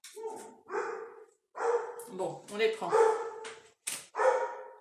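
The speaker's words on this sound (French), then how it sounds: "Voilà, pardon pour les chiens." Dogs bark repeatedly indoors, loud and close, in quick bursts mixed with someone speaking French over and between the barks.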